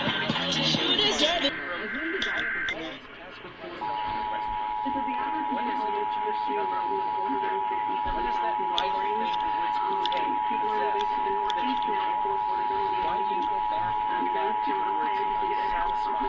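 An emergency alert system test plays on a broadcast from Pierce County Emergency Management: a short burst of harsh data tones, then a long, steady single alert tone that holds loud and unbroken to the end.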